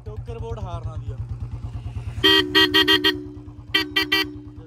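Royal Enfield Bullet motorcycle horn sounds in two bursts of quick, loud, close toots over the bike's steady idling thump.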